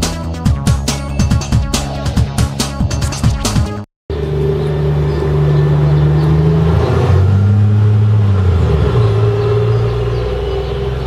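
Bus idling and pulling away near a city bus stop, a loud close engine rumble with low droning tones rising and falling, after a run of sharp clicking sounds, no talk.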